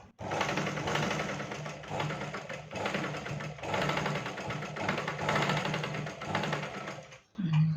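A sewing machine stitches lace onto a blouse, running in a steady, rapid whir broken by a few brief pauses, with a short stop near the end.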